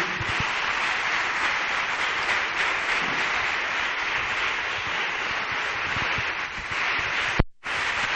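Dense, steady clapping from a large congregation at a religious service fills the whole stretch, a continuous wash of applause that briefly cuts out near the end.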